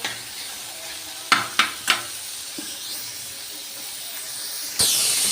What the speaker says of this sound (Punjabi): ਪਿਆਜ਼ ਦਾ ਲਾ ਰਹੇ ਤੜਕਾ